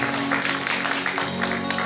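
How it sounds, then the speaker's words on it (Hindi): Brief burst of audience clapping at a World Music Day performance event, a dense mass of hand claps heard close and fairly loud. "उन लोगों के लिए जोरदार तालियां"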